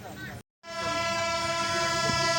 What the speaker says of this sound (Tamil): ஸோ இப்போ ட்ரெயின் வந்து கொஞ்சம் கொஞ்சமாக மூவ் ஆகிட்டு ரொம்ப ஸ்லோவாக போயிட்டு இருக்குது.